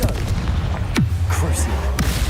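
A Confringo fire spell in Hogwarts Legacy bursts with a loud, close boom and sweeping whoosh, surrounded by low rumbling game effects, short and forceful.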